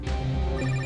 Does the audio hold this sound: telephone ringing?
yes